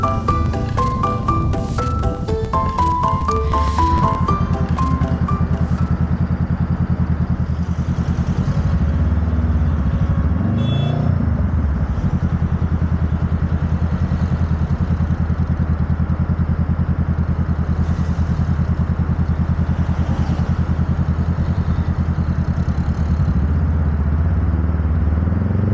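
Honda Monkey motorcycle riding along a road, its engine a steady close drone throughout, with clattering and a few mechanical rattles in the first seconds before settling into a continuous hum.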